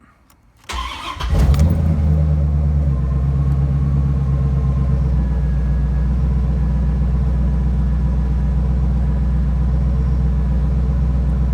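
A 1994-1996 Corvette with just under 100,000 miles cranks over and fires on a cold start, then settles into a steady, loud, deep idle rumble close to the microphone.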